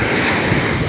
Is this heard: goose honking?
no